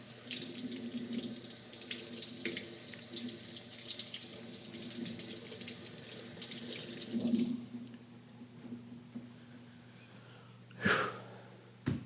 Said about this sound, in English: And now we can wash the onion.